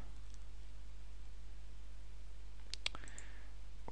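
A computer mouse clicks a few times in quick succession near the end, sharp and close against a steady electrical hum and quiet background.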